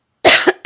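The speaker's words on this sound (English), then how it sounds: "Sorry, I've got a cough now." A single sharp, close cough followed by a second shorter cough burst after a brief pause.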